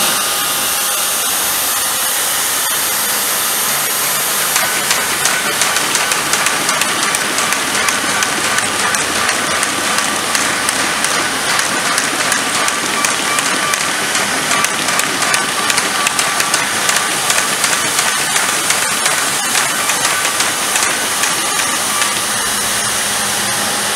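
A 2009 Baum 2020 pile-feed paper folder runs steadily, giving a continuous loud mechanical whir with a fast, even rattle of sheets feeding through, unbroken for the whole stretch.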